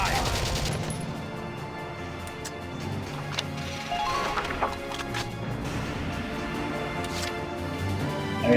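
Gunfire in the Valkyria Chronicles video game: a busy stretch of battle shots and crashing impacts over a steady rumble, the reports fairly even in loudness, with some voices under the noise.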